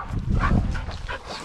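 Several dogs barking outdoors in short, loud overlapping yelps, close by, in a quick burst.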